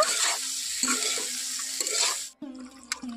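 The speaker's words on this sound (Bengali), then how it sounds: "এখন আমি দিয়ে দেব এখানে ঝিঙেগুলো। খুব ভালো করে একটু নাড়াচাড়া করে নেব।" Ridge gourd pieces stirred with ground spices in a hot pan, giving a steady close sizzle broken by repeated scraping strokes and a brief pause near the end.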